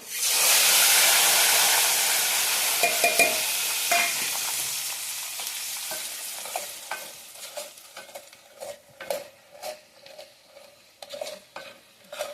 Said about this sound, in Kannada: ನೋಡಿ ಸಾಸಿವೆ ಸಿಡಿತಾ ಇದೆ